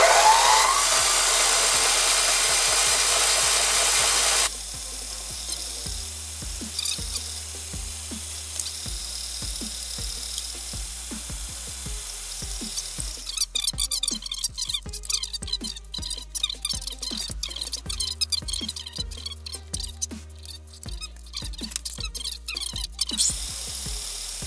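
Power drill boring into a bucket dolly part clamped in a vise, starting after a loud high whine and then running in repeated short bursts of whirring and grinding with pauses between, close and fairly loud.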